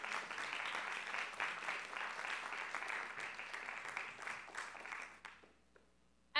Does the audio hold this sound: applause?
yes